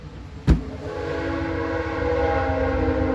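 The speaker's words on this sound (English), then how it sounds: "Hang on, there's a train going by again." A train passes nearby with a sharp clank at the start, then a rumble that swells and holds with a humming tonal drone. No one talks.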